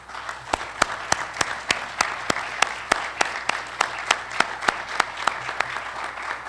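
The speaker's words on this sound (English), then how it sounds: "transmit this applause to all your colleagues" Steady, rhythmic clapping from a conference closing-ceremony audience, each clap crisp and evenly spaced, continuing without pause.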